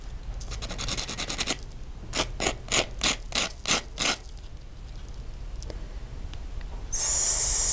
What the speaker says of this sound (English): You could use any file you like, but I just tend to gravitate towards these guys.